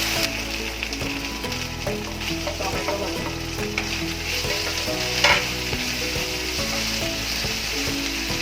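Onion frying in a pan with salt and ginger-garlic paste, for a peas paneer curry cooked over charcoal embers: a steady, loud, continuous sizzle with the clatter of stirring running throughout.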